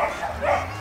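Dogs at an animal shelter give a brief burst of yipping, whining barks, close and loud over a steady background hum.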